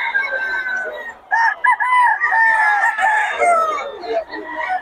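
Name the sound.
Boston Roundhead gamefowl rooster crowing at a market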